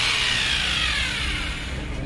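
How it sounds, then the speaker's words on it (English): A corded electric drill, being readied to bore anchor points into concrete for a bouncy castle, whirs steadily and close with a high-pitched motor whine that slowly drops in pitch as it winds down. "I've got my drill set up"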